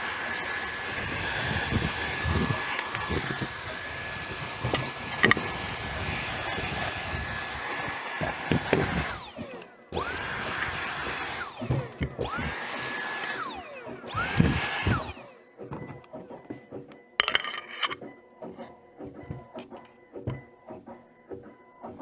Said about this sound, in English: In the meantime, I can vacuum up the accessories.